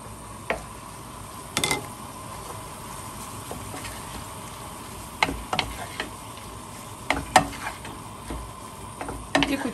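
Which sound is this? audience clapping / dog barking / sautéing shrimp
sautéing shrimp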